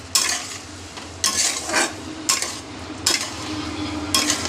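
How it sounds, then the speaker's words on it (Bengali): Katla fish curry with turmeric and dry spices is stirred in a pan, with a spoon scraping in several distinct strokes over a soft sizzle and no talking. "এবার আর একটু নাড়াচাড়া করে নিচ্ছি"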